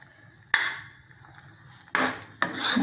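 A spoon stirs carrot and moong dal halwa in a pot, making three separate bursts of scraping and shuffling with quiet pauses between them.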